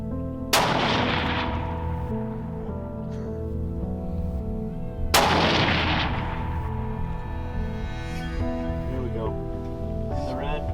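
A custom Defiance action rifle with a match grade barrel and NX8 scope fires two loud, close shots about five seconds apart during a buffalo hunt in the Eastern Cape. Each shot has a long ringing tail, and faint outdoor sound follows.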